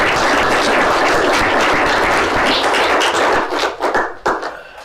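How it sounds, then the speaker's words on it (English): A conference audience claps in a dense burst of applause that holds for about three seconds, then thins into scattered individual claps and fades out. "I applaud you guys."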